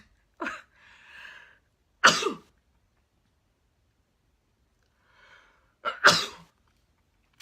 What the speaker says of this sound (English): And I'm just about to sneeze.